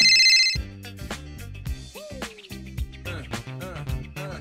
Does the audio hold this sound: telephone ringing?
yes